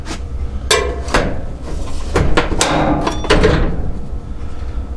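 A paint scraper prying up the top panel of a Whirlpool dryer and popping its spring clips, a run of sharp metallic clacks and scraping knocks spaced unevenly over a few seconds, close by with no voices.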